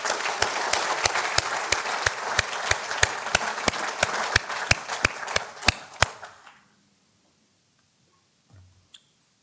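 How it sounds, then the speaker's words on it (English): Applause from the audience at the Utah Safety Council annual awards ceremony, a steady run of clapping with a few sharp, distinct claps standing out, lasting about six seconds before cutting off into near silence and a faint brief knock. "Let's go ahead and give them a round of applause."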